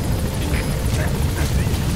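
The support helicopter in Metal Gear Solid V arrives as a loud, continuous rotor roar with rhythmic blade chop and low engine rumble, close and sustained, with speech-like sounds mixed into the noise.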